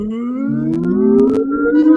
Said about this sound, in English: Get the reveal noise ready.